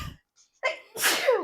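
A human sneeze, close by: a short catch of breath, a brief pause, then the loud explosive burst that fades out, with no talk over it.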